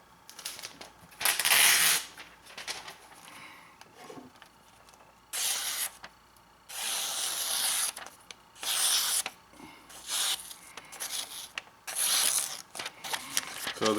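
A sharp knife slices through thin phone book paper in a sharpness test, producing a series of close, crisp hissing swipes at irregular intervals with brief handling pauses between them and no talk.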